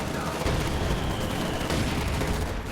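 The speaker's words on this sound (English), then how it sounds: "And I see infantry start shooting away." Infantry gunfire in the World War II strategy game Company of Heroes 2, a dense continuous rattle of rifle and machine-gun fire with distant booms, steady and loud, with a voice faintly underneath.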